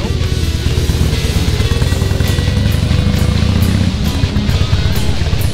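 Harley-Davidson motorcycle rumbles along on a ride, a loud steady low engine drone with wind noise throughout and a few light clicks near the end, no talk over it.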